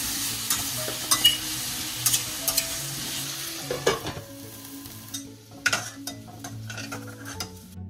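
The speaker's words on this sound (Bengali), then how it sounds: "গাটি কচুটা ভালো করে ধুয়ে আলু আর গাটি কচু একসাথে ভালো করে একটু ভাজা ভাজা করে নিচ্ছি" Potatoes and taro (gathi kochu) frying together in oil, with a steady sizzle under repeated spoon stirring and scraping in the pan, close and fairly loud, with no voices.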